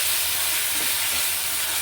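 Ginger garlic paste sizzling in a pan with fried onions, a steady dense hiss with no pauses, close and fairly loud, without any talk.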